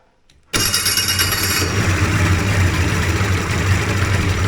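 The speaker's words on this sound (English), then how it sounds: "Yep. Starts and idle, so that's good." A Hurricane hovercraft engine cranks and suddenly catches after a brief quiet start, then settles into a loud, steady, close idle with a deep droning hum.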